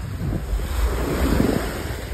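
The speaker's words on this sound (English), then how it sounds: "we made it to the beach, but it's literally pitch black. Like, so dark, but we have our feet in the water" Ocean waves washing onto a beach in Miami's South Beach at night, a steady, close surf wash mixed with gusting wind buffeting the microphone, continuous and without talking.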